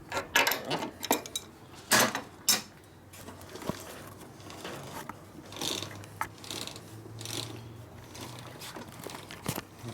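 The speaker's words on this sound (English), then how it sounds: "now tighten up the axle nut" A hand ratchet tightens the axle nut on a 1972 Harley-Davidson Sportster XL Ironhead bobber, with a series of sharp, close clicking bursts at an uneven pace and faint metallic clinks and low rumble between strokes, without talking.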